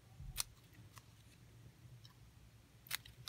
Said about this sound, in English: what you can do is just kind of do a little snip in the middle, just like that.